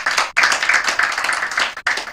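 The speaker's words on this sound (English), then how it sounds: "I believe he deserves another resounding applause." A conference audience at a corporate sustainability report launch breaks into loud, close applause, dense overlapping claps with two brief dips before surging again.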